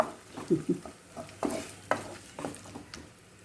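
Onions and curry leaves frying in a pan for a mutton and bengal gram dish, soft sizzling broken by intermittent stirring clinks and scrapes, close up with no talk.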